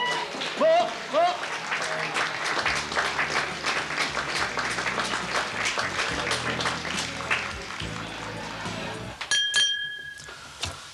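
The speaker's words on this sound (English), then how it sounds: "give him a big round of applause" Audience clapping in a TV drama scene, a lively spell of applause mixed with chatter and raised voices, fading out near the end into a few sharp glassy clinks.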